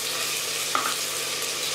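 Ginger-garlic paste and spices frying in oil for chana pulao, a steady close sizzle with a brief stirring scrape midway.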